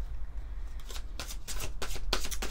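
Oracle cards being shuffled by hand, a run of quick, close papery riffles and slaps in short bursts, with no talking.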